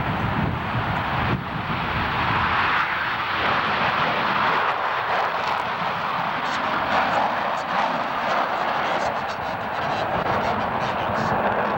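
Blue Angels naval jet aircraft flying, a loud continuous broadband roar of jet engines with wind rush, sustained throughout at a ceremony outdoors.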